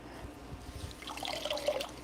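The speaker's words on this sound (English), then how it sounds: "I'm gonna squeeze the excess water out of my yarn" Wet Tencel yarn being squeezed by hand to wring out excess water, with soft low squelches and then a light trickle and dribble of water falling back into a container, close up and quiet.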